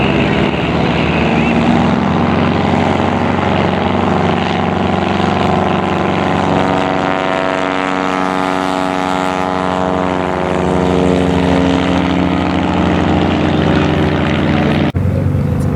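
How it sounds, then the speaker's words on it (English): A Cessna 170 and a Carbon Cub race in an experimental exhibition at a STOL drag event, their propeller engines droning loud and steady with rising and falling harmonic tones as they pass close by. "In the experimental exhibition Cessna 170 versus a Carbon Cub"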